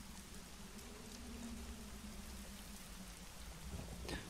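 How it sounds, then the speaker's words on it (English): Rain falls steadily in the adventure game Secret Files: Tunguska, a soft, continuous patter with a low rumble underneath, quiet and unbroken by speech. "The rain's quite well done on here"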